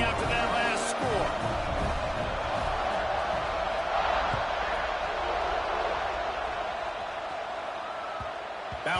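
A stadium crowd buzzes steadily in an American football video game, a dense, continuous roar of many voices that stays at an even level from start to end, with a few louder bursts near the beginning and no clear talk on top.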